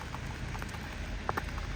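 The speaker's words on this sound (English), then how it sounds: "can you imagine that it's still raining?" Light drizzle patters softly on the street around a walker, a faint, even hiss with a few scattered drop ticks and no talking.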